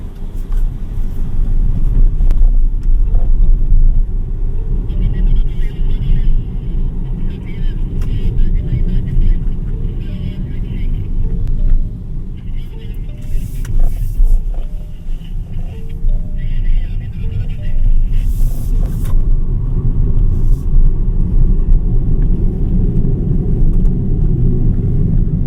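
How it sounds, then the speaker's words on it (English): Steady low road rumble and tire noise inside the cabin of a 2025 BYD Seagull small car cruising at higher speed, a constant droning hum with slight swells throughout. "Higher speeds, there's a bit of road noise going inside the cabin"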